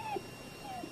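Dog whimpering softly, two short high whines about half a second apart over a quiet room background.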